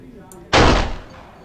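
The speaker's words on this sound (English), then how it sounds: "Using the gun on the old man." A single loud, close gunshot from the video game Beyond Exile fired at an old man, a sharp blast with a short ringing tail, preceded by a faint tick.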